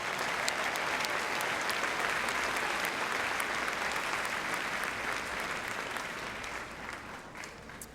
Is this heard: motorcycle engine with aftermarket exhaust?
no